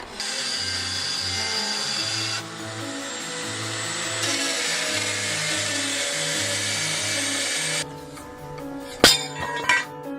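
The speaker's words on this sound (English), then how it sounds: "So I'm going to use this guy, the die grinder, set up in the clamp vertically" A die grinder clamped upright, its bit coming up through a hole in a plate, grinds metal parts for a sword in a steady, close, high-pitched whine over background music for about eight seconds, then stops, followed by a few metallic clinks.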